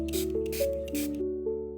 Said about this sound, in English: I gave it all a light spray down so the moss could rehydrate.